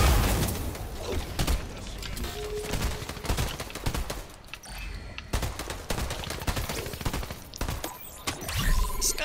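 Rapid bursts of gunfire in the video game Fortnite, dense and loud with repeated sharp shots stacking into fusillades throughout.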